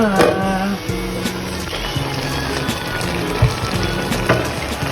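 A pot of ginataang hipon, shrimp in coconut milk, bubbling and simmering steadily, with soft burbling and gurgling sounds close by, continuous throughout.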